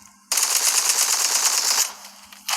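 Automatic gunfire in a Roblox game sounds as one continuous, loud burst of rapid shots lasting about a second and a half, followed by a short second burst.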